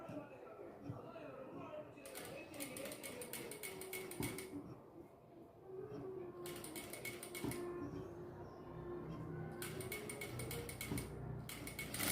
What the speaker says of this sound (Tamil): அதே மாதிரி இந்த சைடு நம்ம தைச்சிடலாம்.